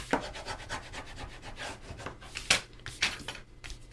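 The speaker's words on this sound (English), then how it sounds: "And I'm just going to burnish them down." Cardstock pieces for a holiday gatefold folio being burnished down by hand, heard as a series of short, close dry rubbing strokes in an irregular rhythm, some louder than others, with no voices.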